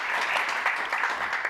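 A conference audience gives a short burst of light applause to welcome a panel at a Davos economic forum session, steady and moderately close.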